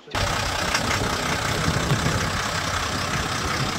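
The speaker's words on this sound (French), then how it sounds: "Donc là, on est sur du moteur MAN 220 chevaux" A MAN 220 hp diesel engine idles in a 6x6 expedition truck built on a Ural chassis, a steady, close rumbling drone that continues without pause, with no talking over it.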